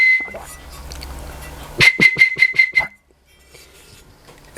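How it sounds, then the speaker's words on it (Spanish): A handmade ceramic whistling bottle from a Diego de Almagro potter is blown: one steady high whistle tone, then a quick run of about six short, bright, evenly spaced whistle bursts before it falls quiet. "una botella silbadora"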